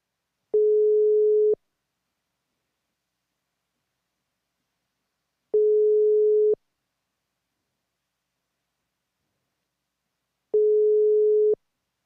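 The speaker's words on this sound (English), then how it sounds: "I dial his number." A call to a switched-off mobile, placed to an Iranian embassy official in Turkey, gives three identical steady mid-pitched tones, each about one second long and five seconds apart, with silence between them and no voices.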